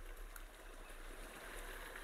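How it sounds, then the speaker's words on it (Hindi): Clear water flows steadily through a roadside stream channel along a forest walking and cycling track in Islamabad, a continuous soft trickling and gurgling wash heard close by with no talk. "ये नाला, ये पानी चेक करें आप"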